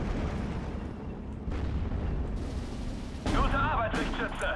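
Mortar rounds land in the Steel Division 2 war game as a dense, continuous battlefield rumble of blasts. A louder burst of impacts comes near the end, with talk underneath.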